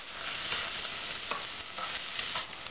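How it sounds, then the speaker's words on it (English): A mixture fries in a pan for homemade Tofurkey while being stirred constantly, giving a close, continuous sizzle with soft spoon scrapes and no voices. "Just let that fry for about a minute, and you stir that constantly so it doesn't burn"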